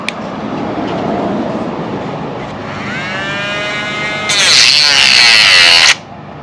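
A cordless Dremel rotary tool cutting through material while fitting door speakers in a Lancer Evolution X with a dying battery: a sustained whine that rises in pitch midway, becomes a loud bright high-pitched scream near the end, then cuts off.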